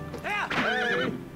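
Epona, the horse in Zelda: Twilight Princess, lets out a wavering two-part whinny, loud and close, rising and falling for about a second before fading out.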